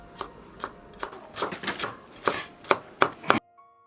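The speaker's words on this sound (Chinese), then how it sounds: "还可以切一些火腿丁" A kitchen knife chops cucumber, carrot and ham into small cubes on a cutting board, about a dozen crisp, uneven knocks that quicken and cluster toward the end before stopping abruptly.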